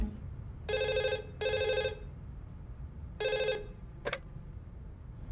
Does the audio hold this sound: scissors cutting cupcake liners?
no